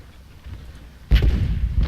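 A single sudden boom of gunfire in an American Civil War strategy game battle, following a quiet stretch of low background rumble, with a lingering noisy tail after the burst.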